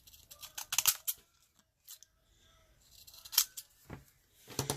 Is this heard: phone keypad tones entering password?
no